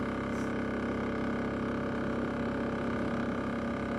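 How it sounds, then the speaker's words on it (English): A Polaris naturally aspirated diesel engine runs at full throttle, giving a loud, steady, dense roar with no breaks throughout. "this is a naturally aspirated diesel engine"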